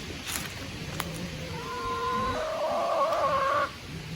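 Backyard hens in a scrubby paddock cluck and warble close by, with a rising run of clucks near the end over faint rustling; no one speaks.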